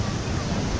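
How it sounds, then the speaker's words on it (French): Heavy ocean swell crashing against tetrapod breakwaters at Port Réunion, a continuous loud, broadband roar mixed with wind noise. "là, il y a des vagues plus ou moins importantes. Mais là où elle tape le plus, c'est donc sur les tétrapodes là-bas."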